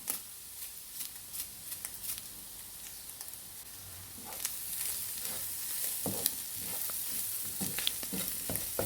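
Chicken fried rice sauce being stirred and mixed in a hot pan, with an underlying sizzle and scraping spatula strokes that start sparse and grow denser and louder about halfway through.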